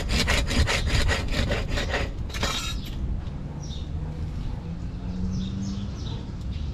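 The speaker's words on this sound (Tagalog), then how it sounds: "hinahasa ko lang yung mga kalyabe" Toyota Altis brake calipers are scraped against cement to grind them down, a rhythmic series of rough rasping strokes up close, then quieter rubbing with faint birdsong in the background.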